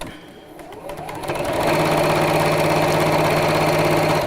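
An electric sewing machine starts up and runs at a steady, loud, close mechanical whir with a rhythmic needle clatter, rising over the first second and a half and then holding steady.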